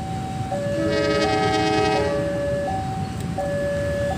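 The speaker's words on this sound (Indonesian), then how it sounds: "Itu kereta apinya guys" A train passes close by near Sidoarjo, Indonesia, rumbling steadily while its horn sounds in long, sustained, layered tones, rising and falling over continuous loud track noise.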